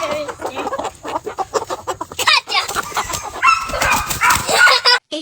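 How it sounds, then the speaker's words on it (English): A rooster clucks and squawks in agitation while being caught, bursts of loud close calls coming in quick succession with scuffling around them and a voice briefly mixed in. "This is how you catch a rooster."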